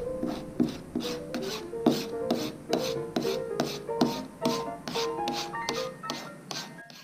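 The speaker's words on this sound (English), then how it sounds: "Flip the file over and use the fine side." Copper etching plate edge filed with the fine side of a file, a steady series of short rasping strokes in an even rhythm, close and moderately quiet with no talk.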